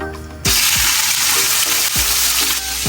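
Pork hits a hot pan with Chinese five spice and bursts into loud, crackling sizzle that continues steadily, punctuated by a few scraping stirs of the pan.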